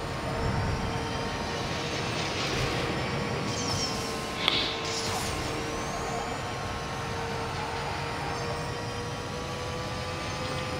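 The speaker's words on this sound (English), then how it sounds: "Damn, I was racing against the jet." Jet aircraft roaring past in the Need for Speed No Limits racing game, a steady broad engine rush with a high whine throughout, loud and continuous with a brief sharper swell midway.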